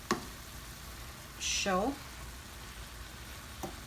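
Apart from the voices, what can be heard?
stirring and frying callaloo amaranth greens in pan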